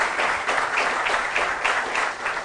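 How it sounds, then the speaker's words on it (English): Applause for two school teams at a televised quiz show, a loud, rhythmic burst of many hands clapping close by that continues unbroken and untouched by speech. "A round of applause for both teams."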